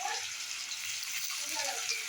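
Onion frying in a pan, a steady bright sizzle with faint stirring scrapes running continuously, close and fairly loud with no talking.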